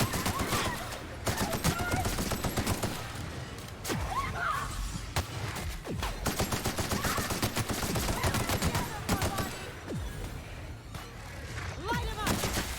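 Rapid bursts of gunfire from a shooting gun in The Outer Worlds, firing in dense volleys with game music and effects underneath, while a voice talks over the action.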